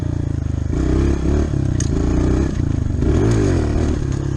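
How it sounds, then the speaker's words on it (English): A motorcycle engine revs hard and loud up close during a no-clutch wheelie attempt, its pitch climbing and dipping in several surges, with clattering and rattling mixed in and no talking. "let me try and do a no clutch wheelie"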